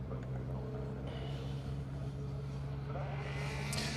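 A Citroen rally car on a circuit rally stage, its engine a steady, moderately loud drone with rising revs near the end.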